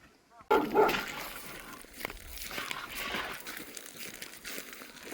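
A dog gives a sudden close bark or yelp, then snuffles and moves about outdoors with rustling and crinkling, and a few faint further sounds follow.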